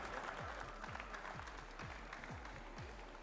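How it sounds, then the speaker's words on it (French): Audience applause at a lamb competition prize-giving, a steady wash of clapping with a regular thudding rhythm underneath, held at even loudness for the few seconds shown. "on peut l'applaudir quand même"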